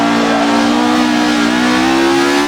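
Toyota AE86 Sprinter from the Initial D car pack in a video game, second-stage tune with 240 horsepower revving to 11,000 RPM, a loud, steady high engine drone held close and unbroken throughout.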